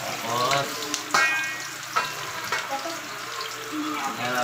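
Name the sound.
sautéing marinated pork in a pan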